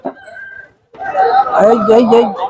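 A rooster crows at a livestock market, a loud drawn-out call after a brief pause, with other fowl calls and market noise around it.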